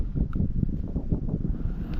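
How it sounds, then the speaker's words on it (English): Wind gusting steadily outdoors during an early spring fishing trip, a continuous low rumbling buffet against the microphone with no speech. "This wind is making it."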